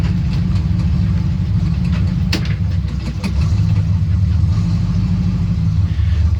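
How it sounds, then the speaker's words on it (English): A 1978 Chevrolet C10 pickup truck idles steadily nearby, its engine giving a continuous low rumble with a faint, even pulse throughout and no voices. "Let it sit out here and idle."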